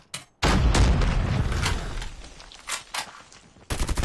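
Hades gun firing in Call of Duty Mobile, a dense burst of close automatic shots from about half a second to past three and a half seconds. Sharp bangs and a few scattered reports follow near the end, with no talk.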